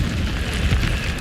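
Incendio fire spell cast in Hogwarts Legacy, a loud rushing burst of flame with a deep rumbling roar that holds steady and crackles throughout, no talking.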